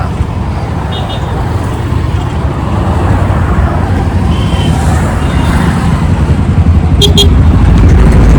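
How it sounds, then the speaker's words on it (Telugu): Congested road traffic near a Delhi market, a dense continuous rumble of engines and motorbikes close by with brief horn beeps, growing slightly louder toward the end. "ఈ రోడ్లో కూడా సొక్క ట్రాఫిక్ జామ్ ఉన్నది"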